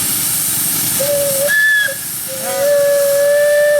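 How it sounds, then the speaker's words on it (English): Steam engine whistle at an antique steam show, blown in two blasts: a shorter tooting note, a pause, then a longer sustained shrill tone, loud and close over a steady hiss of steam. "Give us some juice to whistle, Jeff."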